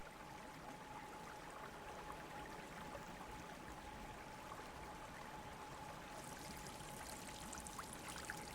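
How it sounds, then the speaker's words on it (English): Hot spring water running freely in Yellowstone National Park, a faint, steady trickling stream with a constant soft rush and a thin tonal hum underneath, no voices. "Places like Yellowstone National Park, where hot water runs freely."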